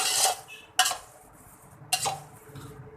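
Zarda sweet rice is stirred in a cooking pot off the flame: three distinct scraping strokes of a utensil against the metal, with light clinks between them in a quiet kitchen.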